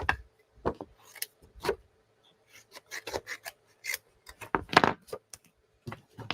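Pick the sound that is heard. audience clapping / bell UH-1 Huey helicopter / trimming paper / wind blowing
trimming paper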